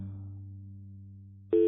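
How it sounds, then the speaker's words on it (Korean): An internal hotel phone line is called with no answer: a low, steady electronic tone hums, then a sharp, louder beep cuts in at the end. "내선 전화를 걸어도 전혀 응답이 없었다."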